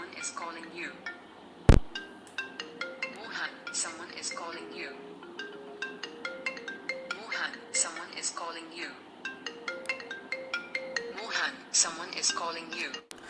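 A custom name ringtone generated online plays as a bright, chiming melody of rapid repeated electronic notes with a short synth-voice phrase, loud and steady throughout, with no talk.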